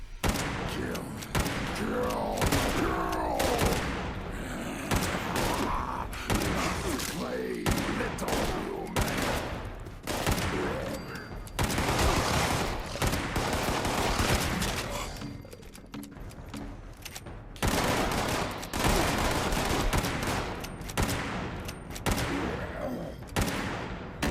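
Semi-automatic rifle fire in Fallout 76 crackles almost nonstop in rapid bursts, loud and dense with game effects layered underneath and brief gaps between volleys.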